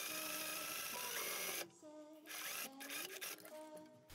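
An overlocker stitches a sewn sleeve seam on a corduroy dress, running as a loud, steady mechanical whir that cuts out and restarts in shorter bursts, close by with no talk.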